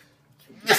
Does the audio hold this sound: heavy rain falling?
no